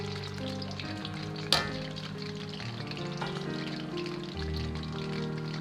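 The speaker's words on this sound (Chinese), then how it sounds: "锅中油温保持4成热，下入肉丁" Diced pork drops into moderately hot oil in a wok, sizzling and crackling steadily and close, with one sharp splash-hiss near the start and small stirring shifts later.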